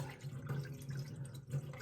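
Water splashes and trickles steadily as it is poured off settled potato starch, with a low hum underneath and a slightly louder gush near the end.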